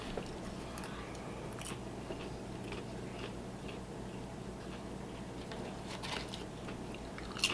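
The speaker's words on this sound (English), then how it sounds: "the whole like soft crunch of the popcorn versus the hard crunch of the chip, it's really good" Soft crunching of popcorn mixed with the harder crunch of chips, chewed steadily up close with irregular bites and a soft low hum underneath, no talking.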